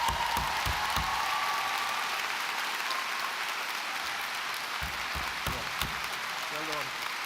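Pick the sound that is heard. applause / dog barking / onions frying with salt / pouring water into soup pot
applause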